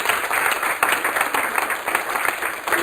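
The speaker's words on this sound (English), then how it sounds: "can we give the panel a round of applause for being here?" A seated audience at a morning coffee panel event applauds the panelists, steady dense clapping from a modest crowd that holds evenly throughout with no talking over it.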